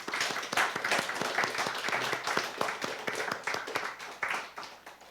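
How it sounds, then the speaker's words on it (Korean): A church congregation applauds at a New Year's Eve service, a dense wash of many hands clapping steadily for about five seconds, loud and continuous with no talk over it. "우리 서로 박수로"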